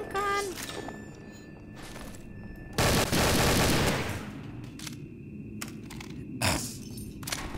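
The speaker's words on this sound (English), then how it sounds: "Here's the machine gun." Machine gun fire in Garry's Mod comes as one loud, dense burst in the middle, over quieter game noise, with a person talking around it.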